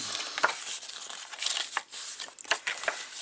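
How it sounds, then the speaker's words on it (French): A paper box has its folds creased by hand, giving close crinkling and scraping rustles with several sharper crackles scattered across a few seconds. "je vais marquer mes plis de ma boîte"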